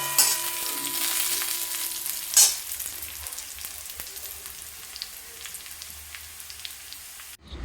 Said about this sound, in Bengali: আর এদিকে আমার পেঁয়াজটাও ভালোভাবে লাল করে ভাজা মোটামুটি হয়ে এসছে।